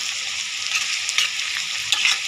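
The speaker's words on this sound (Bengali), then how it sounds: "মরিচ পেঁয়াজ ভালো করে ভেজে নেব।" Chillies and onions frying in oil in a wok, a dense, steady sizzle with small crackling bursts, close and continuous, with no voices.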